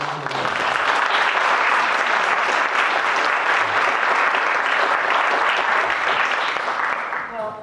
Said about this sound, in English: put your hands together to make a very warm welcome for Carmen Aguirre